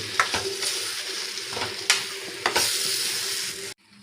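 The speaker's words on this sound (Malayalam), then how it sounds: "എന്തായാലും നന്നായിട്ട് ഇളക്കാം" An elephant foot yam stir-fry sizzles steadily in a pan as a spoon stirs it, with several sharp scrapes and knocks against the pan before the sound cuts off abruptly.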